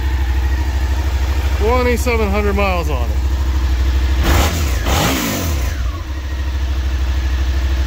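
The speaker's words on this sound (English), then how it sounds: "Unsurprisingly, it has a little bit of an exhaust leak, but it runs." A crashed motorcycle's engine idles with a small exhaust leak, giving a steady low throbbing hum close by while someone talks over it.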